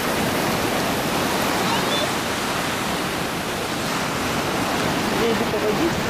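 Someone wades through shallow sea water at Orient Beach, St. Maarten, against a continuous close wash of surf and wind noise, with no distinct splashes standing out.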